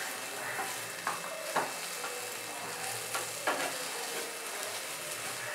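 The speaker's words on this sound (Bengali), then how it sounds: "ভাজা মশলাটা দিয়ে খুব ভালো করে মিশিয়ে আর পুরটা আর একটু শুকনো করে নেব" Pea filling for Bengali koraishutir kochuri is stirred and fried with fried spices in a pan, a steady sizzle under occasional scraping strokes of the spoon, close and continuous with no voices.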